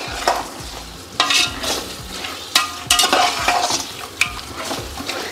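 Food sautés in a hot pan while a spoon stirs it, giving a low sizzle broken by sharp scraping and clinking strokes every second or so, close up and with no talking.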